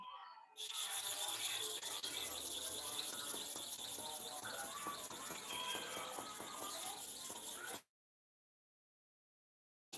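A clipper blade rubs back and forth on a sharpening stone, a steady gritty scraping with quick repeated strokes that runs for about seven seconds and then cuts off.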